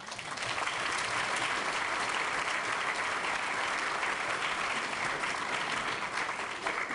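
A large audience gives a sustained, even round of applause, dense and loud from start to finish, welcoming a speaker at a sustainability lecture.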